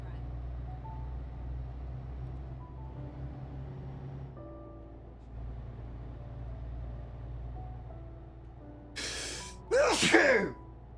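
Two sharp bursts, a loud human sneeze, cut in near the end during a Euro Truck Simulator 2 convoy stream, over a steady low truck engine drone that runs throughout.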